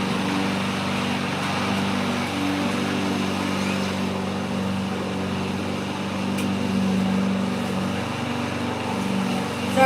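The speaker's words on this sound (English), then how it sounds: "He's mowing the lawn right in front of me." Lawn mower running steadily close by outdoors, a continuous droning engine hum that holds at an even loudness throughout with no break.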